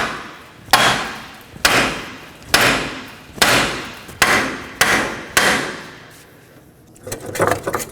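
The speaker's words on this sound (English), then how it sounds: "If you find that you cannot remove the bearing in that way, continue on with a hammer." Hammer blows knocking out a front wheel bearing and hub on a 2013-2019 Nissan Sentra: seven sharp metallic strikes at an even, deliberate pace, close and loud, followed by lighter clattering.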